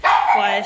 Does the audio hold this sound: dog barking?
yes